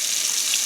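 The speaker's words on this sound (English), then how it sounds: "I'm going to just put water in my sink, and mine is lukewarm" Lukewarm water runs from a kitchen tap into a sink as it fills for washing collard greens, a steady close hiss with no voices.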